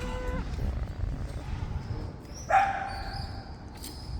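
Dog barking somewhere in Barcelona, Spain: a single sharp bark rings out midway through a quiet ambient background after a faint earlier tone, heard at a moderate distance.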